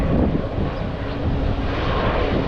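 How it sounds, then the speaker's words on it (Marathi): Loud, continuous rumbling roar of a big airliner coming in to land at Mumbai's Chhatrapati Shivaji Maharaj International Airport, close and unbroken throughout. "विमान आता खाली उतरते आहे"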